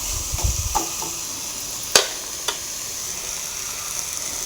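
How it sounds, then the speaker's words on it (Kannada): Food dry-fries in a pan before any oil is added, making a steady close hiss with a few sharp stirring clicks, one louder knock near the middle, and no voices. "ನೋಡ್ಬೋದು, ಚೆನ್ನಾಗಿ ಫ್ರೈ ಆಗ್ತಾಯಿದೆ"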